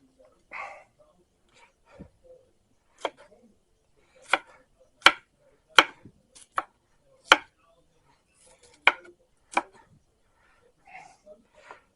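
Knife strikes on a warped chopping board while vegetables are chopped, a series of sharp, close knocks in an uneven rhythm, with a little talk and faint rattling between them.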